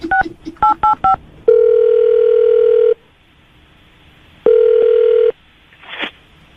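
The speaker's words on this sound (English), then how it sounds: "I'm going to dial the phone number right now" A telephone number is dialed on a keypad as five quick touch-tone beeps, followed by two long steady tones separated by a pause, then a brief noisy burst.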